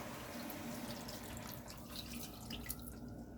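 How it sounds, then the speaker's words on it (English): About 1 1/3 cups of water pouring steadily into a pot of raspberry cake filling for a few seconds, a soft continuous trickling splash at close range, fairly quiet, with no voices. "And you want to add your 1 1/3 cup of water."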